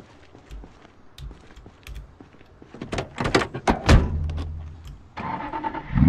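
A car in the video game Project Zomboid: a few soft thumps and door clunks, then a louder engine start near the middle that settles into a steady idle toward the end, with no talk.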